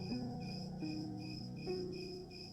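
Crickets chirp in steady, repeating high-pitched pulses, fairly close, with a soft tonal call layered underneath.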